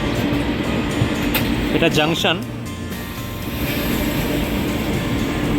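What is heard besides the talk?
Netaji Express train pulling into Old Delhi railway station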